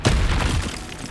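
A Confringo fire spell from the Hogwarts Legacy video game, played on PS5, bursts in a short booming explosion with a sharp onset that quickly fades into a rumbling tail.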